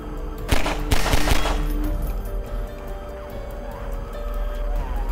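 Bomb exploding in Garry's Mod, a loud burst of sharp cracks and booms near the start followed by a ringing, crackling tail with popping debris and fire sounds.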